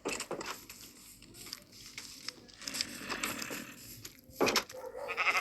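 Several sheep in a video game bleat in short, scattered calls against a soft background, the bleats overlapping and varying in loudness.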